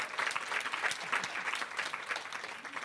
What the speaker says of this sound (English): give them a bit of a round of applause